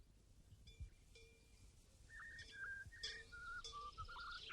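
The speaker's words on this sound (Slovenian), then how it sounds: "ko takole žvižgaš in poješ" A person whistles a lilting tune outdoors near cattle being herded to a mountain pasture, faint and airy with birdlike rising notes over a soft background hiss.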